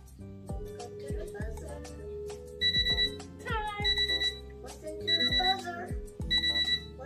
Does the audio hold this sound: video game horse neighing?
no